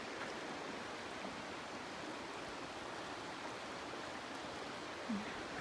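Steady, faint rushing of the Mulberry River flowing along the Ozark Highlands Trail, a continuous even hiss of moving water with no other clear sounds.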